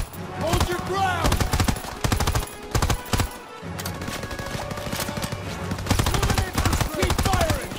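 Dense bursts of rapid automatic gunfire from a World War II battle in Call of Duty WWII, loud and continuous with brief gaps, mixed with shouted voices and combat noise.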